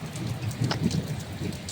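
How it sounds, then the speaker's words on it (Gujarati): Heavy rain pours down in a steady, close wash of drops, with a low rumbling undertone like distant thunder rolling beneath the patter. "તો ગાઈસ વરસાદ આવે છે"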